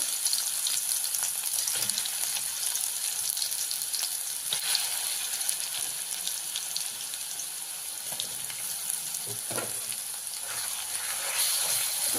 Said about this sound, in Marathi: तेल गरम झालेलं आहे जे आपण मसाला केलेला आहे तो त्याच्यामध्ये मी ॲड करून घेते